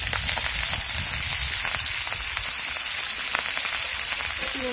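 Whole green chillies fry in hot oil for masale bhat, giving a steady, dense sizzle heard up close without any talking.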